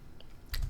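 A single key press on a computer keyboard during 3D modeling work in 3ds Max, a short sharp click near the end, close and fairly quiet against faint room noise.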